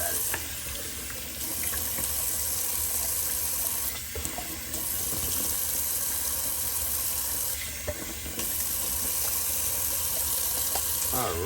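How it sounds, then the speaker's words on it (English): Cold tap water runs steadily into a bathroom sink during a shaving cleanup, a continuous close splashing rush that lasts throughout with small shifts in flow. "Do a little rinse out of the sink."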